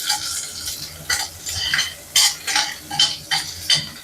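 Small shallots sautéing in a pan for chicken thokku, stirred with a spoon so the sizzle rises in repeated scraping bursts, close and fairly loud, with no talking.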